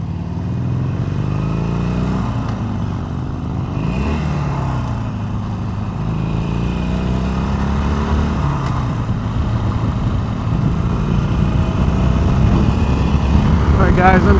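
A 2020 Harley-Davidson Sportster Iron 883 motorcycle rumbles steadily while being ridden, its engine tone rising and falling through gear changes with constant wind noise and no pauses.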